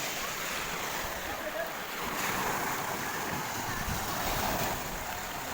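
Ocean surf at Pundaquit Beach in Zambales, a steady broad wash of waves blended with wind buffeting the microphone, continuous and without distinct breaks.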